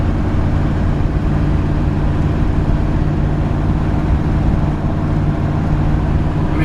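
A 1957 Chevrolet 210 Handyman Wagon cruises along with its engine humming smoothly, a steady low rumble and road drone heard from inside the car, unbroken and without talk.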